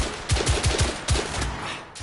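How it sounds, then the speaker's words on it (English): Rapid bursts of gunfire from The Order: 1886, five or six sharp shots in quick succession followed by a longer rattling volley, loud and close with no talking over them. "who's shooting me?"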